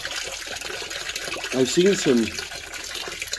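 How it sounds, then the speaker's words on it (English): Water gushes and trickles steadily into a sump pump basin hole dug below floor level, with a continuous broadband rush while someone speaks briefly over it partway through. "Just fill right up the water."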